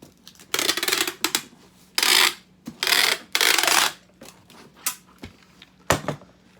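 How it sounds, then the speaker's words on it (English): Packing tape is pulled off the roll in several long, loud ripping strips and pressed onto a cardboard shipping box, with short taps and crinkles between pulls and no talk. "so let's go ahead and tape it up"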